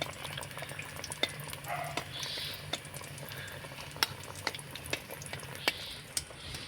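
Phuljhuri pitha fry in oil with a soft, steady bubbling, while a spoon taps and scrapes now and then to splash oil over the frying dough; quiet and close, no talking.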